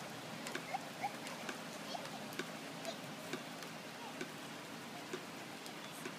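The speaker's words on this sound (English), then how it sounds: "Here we are. Rain." Rain falling outdoors in summer, a soft, even hiss with scattered light drips and patters throughout, fairly faint and steady.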